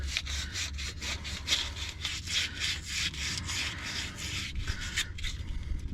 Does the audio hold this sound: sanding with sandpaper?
yes